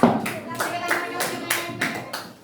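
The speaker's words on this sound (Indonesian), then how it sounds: "Kita kasih tepuk tangan untuk kelompoknya Mbak Hafiza." A few people clap in an uneven rhythm for a couple of seconds, fairly close and moderately loud.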